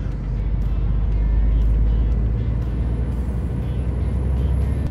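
Scania truck pulling away onto the road, a loud low diesel rumble building from the start and holding steady, with faint road noise and no talk.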